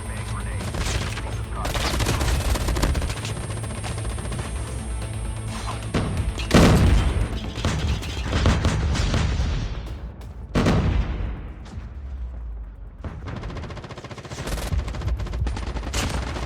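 Gunfire between players in the battle royale mode of Call of Duty Mobile: bursts of automatic fire and heavy booming shots pile up densely and loudly throughout, with sharp louder blasts now and then.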